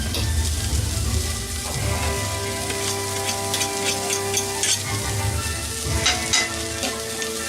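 Garlic sizzles steadily in a hot pan for a breakfast quesadilla with eggs, a dense crackling fry that holds close and loud throughout, with faint stirring scrapes and no talking.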